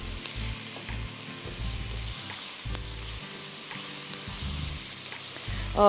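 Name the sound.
onions and spices sautéing in a pan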